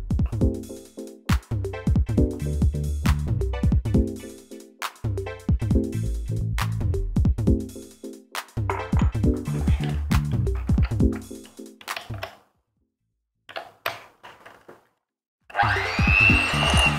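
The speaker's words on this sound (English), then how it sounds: "beat together your butter and sugar until light and fluffy" Electric mixer beating butter and sugar in a big mixing bowl, loud whirring bursts in repeated cycles that stop and start, with a pause and a brief rustle at the end.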